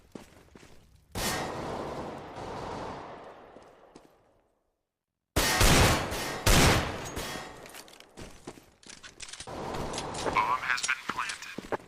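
Pistol gunfire in a Valorant match, sharp shots in quick bursts with game noise, loud and close after a brief silent gap, with talk running underneath.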